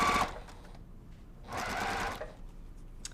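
A sewing machine chain-pieces quilt blocks in two short, fast runs of stitching, each a buzzing whir that stops and restarts after a brief pause, heard close up.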